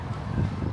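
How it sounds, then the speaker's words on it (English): Steady wind buffeting the microphone, a low constant rumble and roar with no talking. "And then, it's bloody windy."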